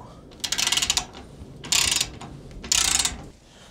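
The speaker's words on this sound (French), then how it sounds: "on prend le petit embout Torx et on vient dévisser ça là-haut" Torx bit turning out a worn screw high on the fender of a first-generation Renault Twingo, giving three separate bursts of close ratcheting clicks with short pauses in between.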